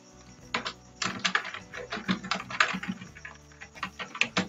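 Typing on a computer keyboard: rapid, irregular clusters of close key clicks and taps continue throughout, with no voices over them.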